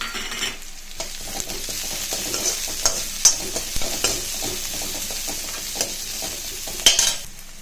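Dried red chillies sizzle in hot oil in a pan, a steady close frying hiss with stirring clatters and small pops throughout, while ponnanganni greens are prepared.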